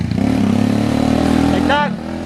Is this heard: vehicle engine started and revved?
yes